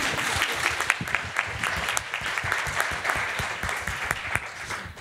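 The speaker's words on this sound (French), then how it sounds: "Allez-y, applaudissez-les, le mérite." An audience at a talk about video games breaks into sustained applause, a dense steady patter of many hands clapping with a few sharper claps standing out throughout.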